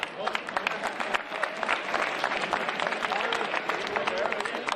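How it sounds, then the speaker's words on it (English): Audience applause for the match officials at a junior final, a sustained dense round of clapping from a sizeable crowd with some voices mixed in, steady throughout. "a big round of applause to the officials"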